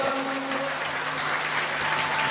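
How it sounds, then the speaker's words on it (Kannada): A church congregation claps loudly during a worship service, a dense, steady wash of applause holding at even strength throughout, with a faint sustained tone underneath. "ಚಪ್ಪಾಳೆ ತಟ್ಟಿ ಜೋರಾಗಿ"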